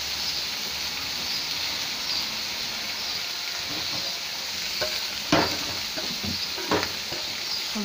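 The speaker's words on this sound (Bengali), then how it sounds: "ডিমটা আমি ওর মধ্যে এখন দিয়ে দেবো" Taro leaf curry sizzling steadily in a pan as a fried egg goes in, a loud continuous hiss broken by a few clattering stirs and scrapes of a spoon.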